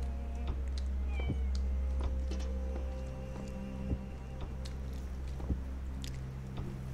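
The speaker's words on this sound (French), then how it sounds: "Voilà, un chat." A cat meows in a video game, The Talos Principle, against a steady low hum and scattered clicks; the calls are moderately close and come without any talking over them.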